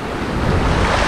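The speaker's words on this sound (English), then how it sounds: "I fucking get taken out by a massive ass wave, like this one right here" A large ocean wave crashes onto the beach in a loud, continuous rush of surf, with heavy wind buffeting the microphone.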